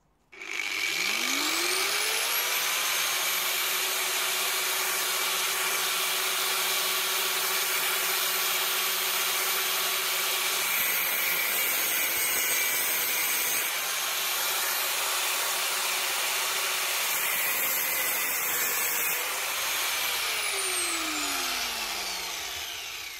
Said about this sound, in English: I'm going to go back to the cutting disc first,